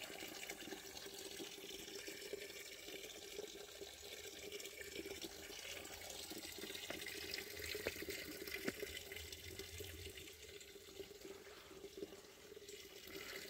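Small waterfall pouring into a little river outdoors, a steady, faint rushing splash that stays constant throughout.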